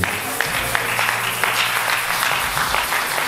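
A church congregation applauds and cheers for God, a steady wash of clapping that runs throughout at fairly loud level.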